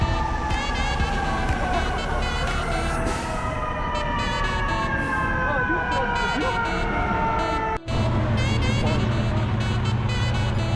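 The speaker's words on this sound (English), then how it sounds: "Ambulances are arriving." Wailing ambulance sirens sweep up and down continuously over busy New York City street noise, loud and close, with a brief dropout near the end.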